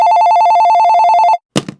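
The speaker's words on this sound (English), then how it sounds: "The phone rang." A telephone bell trills in a loud, rapid, continuous warble for over a second, then stops, followed by a brief clatter like a handset being picked up.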